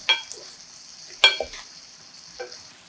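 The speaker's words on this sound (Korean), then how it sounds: "뚜껑 열어 골고루 섞어준 후" Kohlrabi being stirred evenly in a frying pan: three distinct scraping stir strokes against the pan over a soft background sizzle, fairly close, with no talk.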